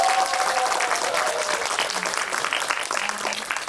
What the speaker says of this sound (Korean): 30주년을 맞이하신 민용근 감독님께도 큰 박수 한번 부탁드립니다